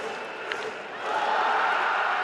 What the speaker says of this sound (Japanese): スタンドからの大きな歓声の中